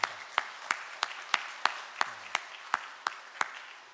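A church congregation claps in a slow, steady rhythm to welcome new members, about a dozen distinct, evenly spaced claps over a soft room background.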